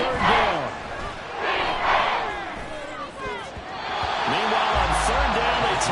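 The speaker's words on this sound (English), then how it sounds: "The Arrowhead crowd in full roar." A stadium crowd roars in full voice at Arrowhead within the Madden 24 football video game, swelling in repeated waves of cheering, with a play-by-play commentator talking over the din.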